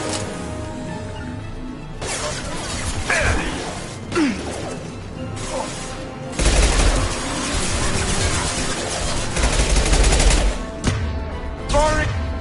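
Heavy sci-fi gunfire in a Mass Effect 2 Legendary Edition firefight: sustained automatic bursts, sharp impacts and whooshes, loud and close, with brief squad radio chatter between volleys.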